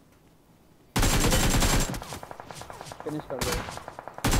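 BGMI battle royale gunfire bursts in after a quiet start: a loud sustained volley of rapid shots, then a run of evenly spaced single shots, and more loud bursts at the end, with a voice speaking briefly over it.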